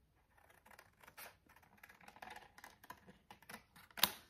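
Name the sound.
scissors cutting out a stamped paper flower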